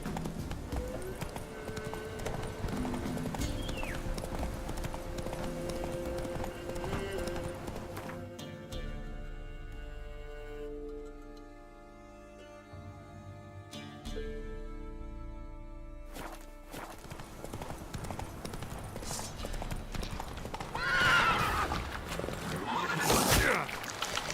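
A horse in The Witcher 3: Wild Hunt – Blood and Wine clip-clops along at a steady gait with a neigh, game music and voices mixed in, then the hoofbeats give way to a quieter musical stretch before resuming.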